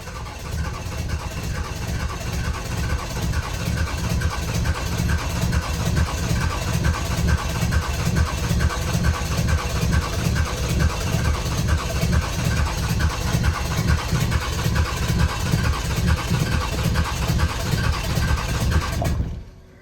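A Dodge Cummins diesel truck engine, left sitting in the cold for a week, cranks over without catching: a loud, close, even chugging rhythm of the starter that runs on for many seconds before cutting off abruptly.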